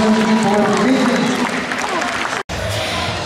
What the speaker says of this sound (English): Another round of applause for these people.